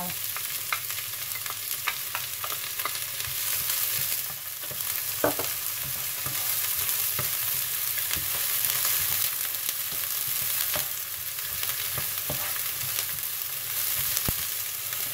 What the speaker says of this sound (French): Maintenant, on va mettre les oignons coupés